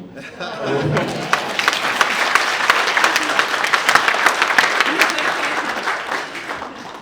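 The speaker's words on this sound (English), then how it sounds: "he deserves a big round of applause" Clapping swells from a crowd at a speech event, rising quickly into loud, crisp sustained applause with sharp individual claps standing out, then easing off near the end.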